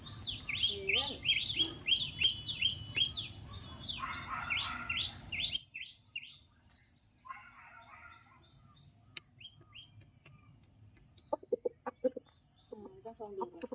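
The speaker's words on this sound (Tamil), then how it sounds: "சேவல் சேவல் சேவல்" A rooster calls in a village setting among chirping birds and hens clucking, the busy fowl sounds loudest in the first few seconds before fading to sparser calls and scattered sharp clucks.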